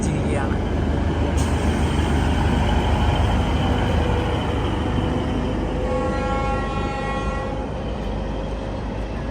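A train pulls out of a snowy Kashmir valley station with a steady low rumble of wheels and carriages. A sustained horn tone sounds partway through, and voices murmur faintly in the background.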